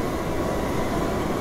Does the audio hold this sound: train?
yes